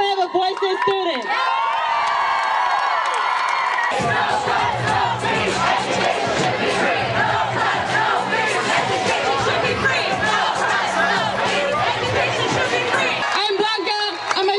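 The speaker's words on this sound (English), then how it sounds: "Cheer if you have a voice as students." A large crowd of students and workers at a campus walkout rally at UC Berkeley cheers and shouts loudly and continuously, with whoops and voices piling on top of each other, the roar barely dipping for the whole stretch.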